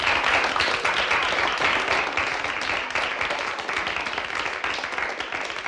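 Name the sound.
crowd applauding a shot in a virtual 9-ball pool match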